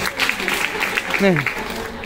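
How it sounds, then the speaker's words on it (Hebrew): An audience at a lecture applauds, a dense, continuous patter of clapping with a voice speaking over it. "כפיים"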